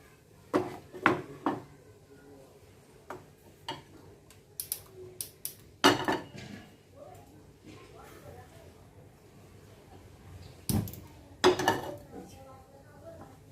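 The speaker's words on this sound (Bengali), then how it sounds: "একটু শুকনো খোলায় কড়াতে এই মেথি পাতাগুলোকে একটু শুকনো নেড়ে নেব।" A utensil clinks and scrapes against a dry pan in irregular bursts while fenugreek leaves are stirred on the stove, with a person talking quietly in between.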